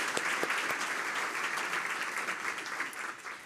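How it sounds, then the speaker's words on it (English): A crowd applauds the sponsors at the Ripple of Hope 2025 event, a dense, steady wash of many hands clapping that holds for a few seconds before starting to fade. "Get a round of applause for our sponsors."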